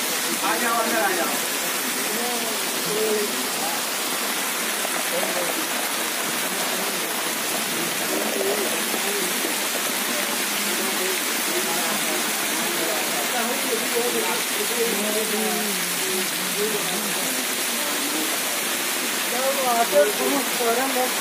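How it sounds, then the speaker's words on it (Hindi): Steady, dense rushing wash of heavy rain in Khalilabad, Uttar Pradesh, loud and continuous throughout with no pauses, a broad hiss filling the whole stretch. "जोरदार बारिश।"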